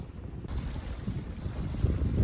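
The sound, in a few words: gusting wind while sailing a boat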